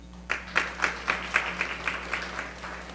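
Scattered applause at a school board meeting for middle school students, a few people clapping in a slow, spaced rhythm that softens toward the end, with a low electrical hum underneath.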